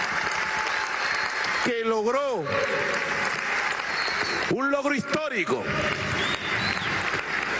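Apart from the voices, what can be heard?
crowd applause in arena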